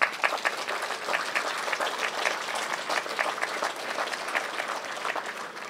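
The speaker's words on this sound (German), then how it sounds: "Applaus" Steady applause from a large audience at an outdoor political rally in Pirna, Germany fills the whole stretch, dense clapping at an even level without a break.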